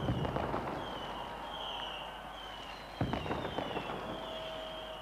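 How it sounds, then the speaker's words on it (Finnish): Millennium New Year fireworks over Helsinki, Finland: a steady crackle of distant bursts with a sharper bang near the middle, above a low crowd murmur and faint whistling tones. "kunhan ilta ehtii ja saamme Helsingin ilotulituksen"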